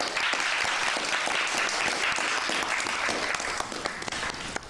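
Audience applauding steadily for a woman panelist from a press group at a debate on women's entrepreneurship in Guinea, dense clapping from a large crowd that stays loud throughout and thins slightly at the end.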